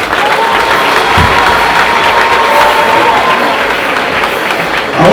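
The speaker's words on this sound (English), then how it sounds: "I want you to clap for yourself." An audience at a university ceremony conferring an honorary doctorate applauds the university band with loud, sustained clapping mixed with some cheering, steady for about five seconds.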